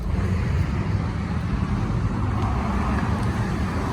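A 1959 Chevrolet Apache pickup truck driving, with a steady low engine and road rumble filling the cabin at constant loudness throughout.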